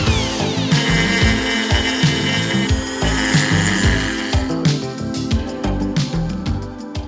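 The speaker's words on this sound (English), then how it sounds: "use a Dremel to grind away the metal" A Dremel rotary tool grinds metal on a moped engine case, a loud, continuous high-pitched whine that wavers in pitch as the bit bites and lets off, close up with no talk.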